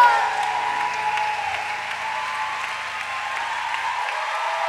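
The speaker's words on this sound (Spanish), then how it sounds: "¡Un aplauso para las chicas!" Live audience applauding performers at an end-of-season stage show, a steady wash of clapping at even loudness throughout, with a faint tonal hum underneath.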